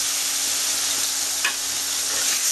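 Bitter gourd pieces fry in oil in a pan, making a steady, dense sizzle throughout, with a faint clink of stirring.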